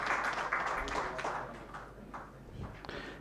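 Applause from the audience at a spiritual tourism summit, a steady patter of many hands that fades gradually over a few seconds, with a faint voice showing toward the end.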